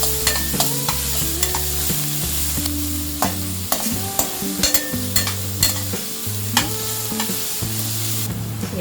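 Finely chopped onion and green chillies sizzle in a pan while a spoon stirs them, with steady frying hiss and repeated scraping strokes throughout, no voices present.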